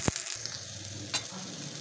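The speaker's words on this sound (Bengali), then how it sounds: "শিম ভাজা হয়ে গেছে, এবার তুলে নিচ্ছি।" Fried broad beans stirred and lifted from a hot frying pan: a steady close sizzle with a sharp spatula scrape at the start and another soft scrape midway, no voices.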